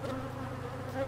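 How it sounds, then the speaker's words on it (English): Honeybees back from almond pollination in California fly around a truck in a steady, dense buzzing swarm, moderately close and without talk. "If you look up, you can see the bees flying. Just thousands and thousands of bees everywhere."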